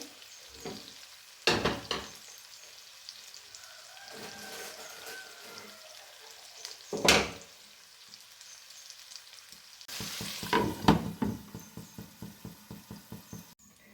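Fresh curry leaves drop into brinjal frying in hot oil, giving soft sizzling broken by several sharp bursts of crackle and stirring, fairly quiet overall with a livelier spatter near the end.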